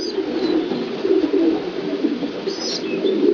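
A flock of long-distance racing pigeons coos continuously at close range. The low throaty calls overlap in a steady murmur, with a faint chirp or two and possible wing movement. No voices.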